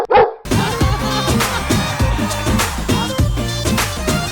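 A dog barks repeatedly in rhythm on a comedy dance performance stage show, with a loud, dense musical backing running under the barks throughout.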